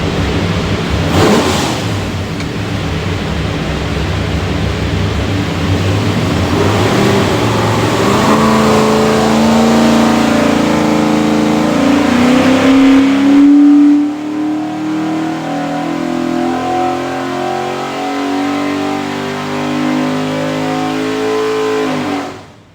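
A 587 hp all-aluminum Shelby 427 V8 with a hydraulic roller cam runs on an engine dyno, loud and close, its revs climbing steadily in a long pull before cutting back and idling down.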